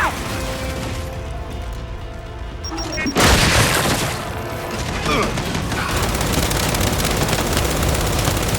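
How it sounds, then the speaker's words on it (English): A frag grenade goes off in the Gears 5 video game: a loud, close boom erupts after a stretch of quieter battle noise, followed by a rumbling, debris-filled tail that stays dense and noisy. "Frag out!"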